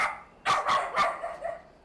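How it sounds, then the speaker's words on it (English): Dogs bark in Vietnam, three or four sharp barks close together at mid distance, with a quieter trailing yip after them. "What's striking is the number of dogs out here. They're absolutely everywhere."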